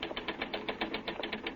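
A typewriter in a radio drama clatters with rapid, evenly spaced keystrokes, about a dozen crisp clicks in quick succession, moderately close and heard alone.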